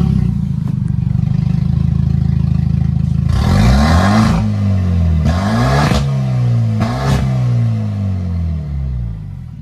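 Hyundai Genesis 2.0T engine running with no exhaust fitted, loud raw drone with three sharp revs rising and falling, rattly and close, steady idle between blips.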